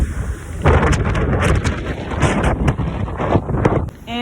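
Blizzard wind blowing snow outdoors near a hen coop, a steady close roar with strong buffeting gusts on the microphone throughout, continuous and loud with no talk.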